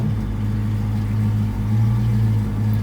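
A Foxbody Mustang V8 after a throttle position sensor repair, running at a steady, even idle close by, with a deep low rumble and no stumbling.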